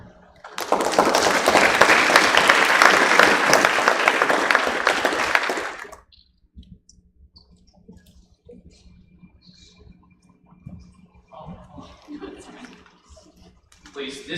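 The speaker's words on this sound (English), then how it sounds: "Please, this has to be the biggest round of applause." An audience at a student government general session breaks into loud applause lasting about five seconds before it cuts off, followed by a quiet room with faint shuffling and a speaking voice.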